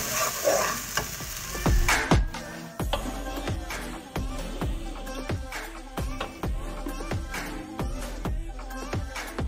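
Tomato paste is stirred into tuna korma frying in a pan, a spoon scraping in a rough steady rhythm of close, crisp strokes over a soft sizzle.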